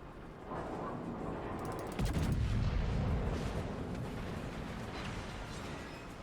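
Naval guns fire in the World of Warships video game: one heavy, booming salvo hits about two seconds in, followed by a rolling rumble over steady ambient battle noise.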